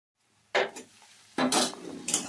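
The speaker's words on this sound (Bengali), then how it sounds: "এবার দিয়ে দিব পেঁয়াজ কুচিয়ে রাখা পেঁয়াজটা দিয়ে এবার ভালো করে নাড়াচাড়া করে মিশিয়ে নিলাম।" Chopped onion goes into a pan of whole spices and is stirred, giving a few close clattering scrapes of a spoon against the metal pan over a faint sizzle.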